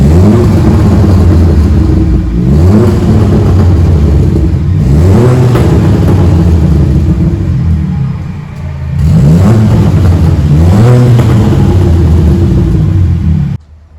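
Stage 3 tuned Skoda Octavia vRS with an IS38 turbo upgrade, high-pressure fuel pump and racing intake revs loudly up and down in three long sweeps, close and alone, each climb and fall ending before a sudden cut.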